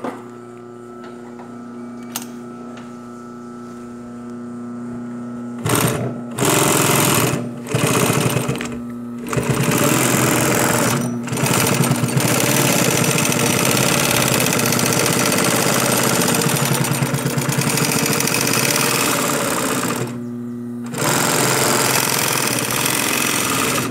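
A twin-needle sewing machine with triple feed stitching foam-backed fabric, running loud and close in a fast steady mechanical chatter with a few brief stops and restarts.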